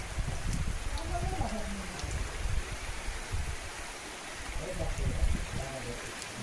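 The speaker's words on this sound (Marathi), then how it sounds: "आणि थोडा थोडा आता पाऊस आला." Light rain patters faintly over an open farm field during rice transplanting, a soft, steady wash of drops with occasional louder splashes and background ambience.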